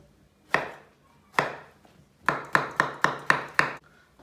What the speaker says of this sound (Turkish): Şöyle kabaklara bir çizik attım.